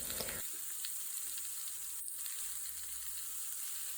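Mushroom and pumpkin cooking in a pan for pumpkin in coconut cream, a steady hissing sizzle that starts with a brief clatter, then runs evenly and close without any voices.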